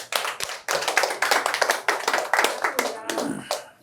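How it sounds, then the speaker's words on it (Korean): A small gathered group claps to welcome a guest to a question-and-answer talk, with distinct close hand claps in uneven bursts over nearly four seconds, tapering off toward the end. "예, 박수."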